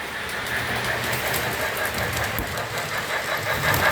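A steam train running on the Withlacoochee River Railroad, giving a steady, close rumble with dense rattling and clatter that holds at an even loudness throughout, without voices.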